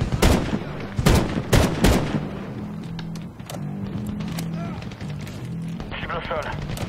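Gunfire in the Medal of Honor video game: loud, close bursts of rapid shots in the opening seconds, then sparser single cracks over a constant droning game background.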